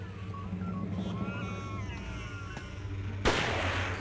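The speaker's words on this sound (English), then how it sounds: "Someone's shooting." A single sharp, loud gunshot bursts out near the end in the horror game Forbidden Siren, following a stretch of quiet, low droning ambience with faint tonal sounds.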